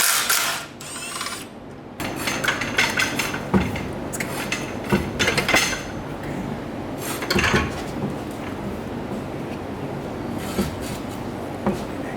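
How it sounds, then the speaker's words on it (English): Hand ratchet wrench working a bolt loose on a Miata with an LS3 engine swap, close clicking pawl sounds and metallic clanks over a steady background hum. "we'll pop this last bolt out"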